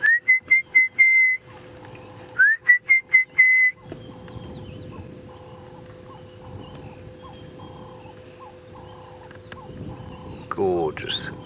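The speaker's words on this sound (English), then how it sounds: "In the background you can hear the orange-breasted bushshrike." An orange-breasted bushshrike sings clear, repeated whistled notes in two short bursts near the start during a sunset safari drive in South Africa. Soft bush ambience and faint distant calls continue afterward.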